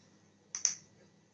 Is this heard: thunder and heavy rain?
no